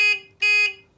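An electrical continuity test buzzer clipped to a wire on a classic Mini hydraulics switchbox gives two loud, steady electronic buzzes, a short one then a longer one, close by and alone.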